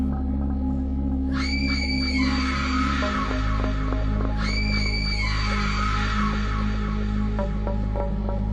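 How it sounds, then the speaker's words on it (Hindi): Screaming voices in a horror story set in a haunted mansion at night: two loud, drawn-out high-pitched wails over a low throbbing hum and eerie drone. "कौन चिल्ला रहा है?"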